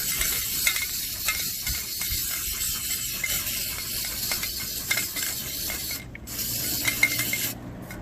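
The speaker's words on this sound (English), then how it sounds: "See how much I spray? It's a lot." Plasti Dip aerosol sprayed onto car rims, a continuous close hiss with short bursts and pauses, a crackly spitting texture throughout and a brief gap where the nozzle releases.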